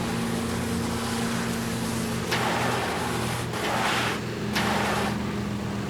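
A Grumman Duck's engine in MSFS 2020 runs at full RPM for takeoff, a loud, continuous droning roar with steady low harmonics and occasional bursts of rushing wind noise.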